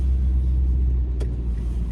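Car interior while driving and pulling into a parking spot, with a steady low engine and road rumble throughout and a brief thump near the middle, no talking.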